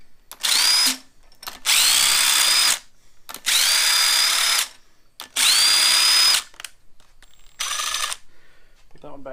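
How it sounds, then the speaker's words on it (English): A power tool loosening the cylinder head bolts on a 2008 Subaru Impreza during head gasket work; five loud, close bursts of high-pitched whirring, each about a second long, separated by short pauses with faint clinks. "switch over to power tool and"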